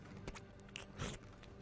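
Close-miked crunching and chewing of nuts comes through in a few irregular bites and crunches, fairly faint, with small scraping sounds between them.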